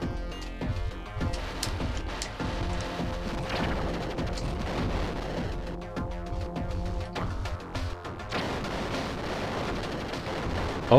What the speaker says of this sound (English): Oh yeah, using the mega weapon.